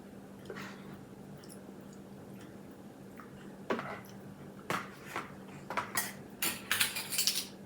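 Fork and spoon clink and scrape in a bowl as cumin is mixed into a 3-way chili casserole, quiet at first, then sharper clatters come thicker toward the end over a low steady hum.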